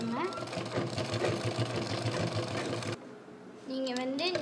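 A sewing machine stitches through a folded jute purse with a rapid, steady mechanical chatter, close and moderately loud, stopping abruptly near the end; someone talks over it throughout.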